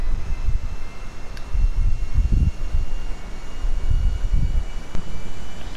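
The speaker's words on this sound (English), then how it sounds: "All right, Cabin, we are ready for takeoff." An airplane taking off in GTA 5 gives a steady, loud engine roar with low rumbling surges that swell and fade, heard alone with no voices.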